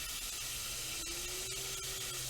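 Water sprays onto a garden plant in a continuous soft hiss, steady and fairly faint, with no talking.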